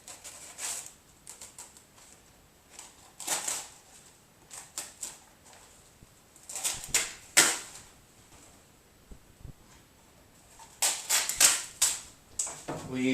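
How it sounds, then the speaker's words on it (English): Peel ply being peeled off fiberglass and epoxy that is still in a rubbery state: short crackling rips in scattered bursts, quiet between pulls, with a denser, louder series of tearing sounds near the end. "We'll pull out the peel ply."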